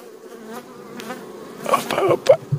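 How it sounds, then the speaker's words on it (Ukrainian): Honeybees of the Bukovinka breed hum at an apiary in the Chernivtsi region while a hive frame is handled during winter preparation, a steady close drone with louder bursts near the end and no talk. "це бджола буковинка в нашій Чернівецькій області"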